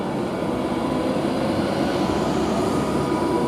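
A London Euston service departing Milton Keynes Central railway station produces a loud, steady, close rumble with a broad, even roar that holds constant throughout, with no voices.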